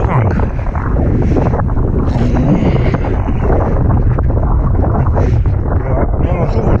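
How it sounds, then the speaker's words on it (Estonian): A gust of wind at a lake or sea while wing foiling roars continuously and loudly across the microphone, a dense unbroken buffeting rush with no clear pauses. "Hetkel on puhang."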